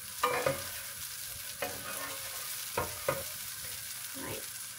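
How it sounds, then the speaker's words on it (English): Garlic prawns fry in butter with a soft continuous sizzle, punctuated by a few sharp clatters of stirring in the pan, close and moderately loud. "I'm going to get that just a little bit fried off."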